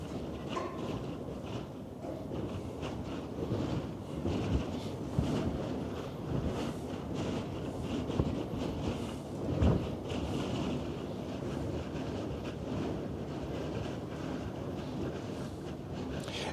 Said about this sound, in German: das Windgeräusch, was ihr hier hört